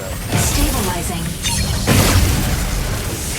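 A big cannon firing in a video game, delivering a few heavy booming blasts with rumbling low-end tails, close and loud, with someone talking over them.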